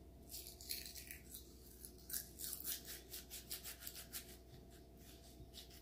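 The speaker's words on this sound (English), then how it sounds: "I'm just grinding it by rubbing it in my hands like that." Dried herbs for bath salts are rubbed and ground between the palms, giving a faint, rapid, rhythmic scratchy rustle over a low background hum, with no voices.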